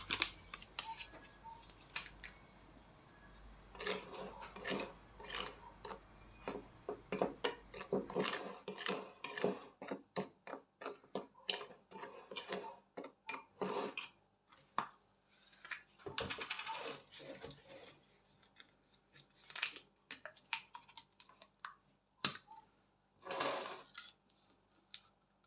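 Flour being mixed with sugar for a homemade orange danao drink, a utensil tapping and scraping a bowl in irregular bursts of clinks and rattles, close and fairly quiet, with no talking.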